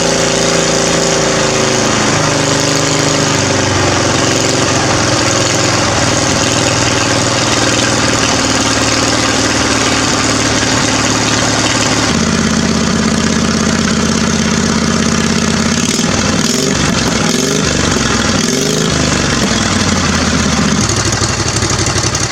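Salvaged lawn mower engine mounted on a homemade boat motor, running steadily and close with a loud droning idle, its tone shifting partway through and briefly wavering near the end.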